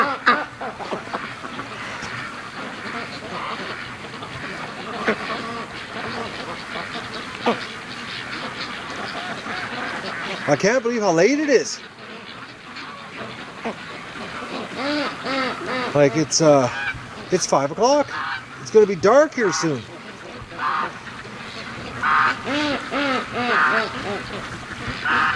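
Brant geese honking at a duck enclosure near dusk, scattered bursts of calls around a person talking close by, with quieter stretches between.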